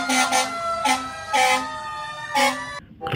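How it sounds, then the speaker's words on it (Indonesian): Red toy fire truck sounding its electronic siren in short repeated wailing bursts, fairly close and loud, with no one talking over it and a brief quiet gap at the end. "di sini ada mobil pemadam kebakaran teman-teman"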